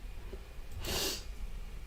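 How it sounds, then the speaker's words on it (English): A single short, breathy nasal sniff or snort, quick and close, in an otherwise quiet room. "I'm sniffling and coughing all over the place."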